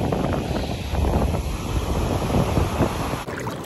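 Ocean waves and strong wind at a Florida beach roar steadily with heavy microphone buffeting, surf surging throughout and a brief dip near the end.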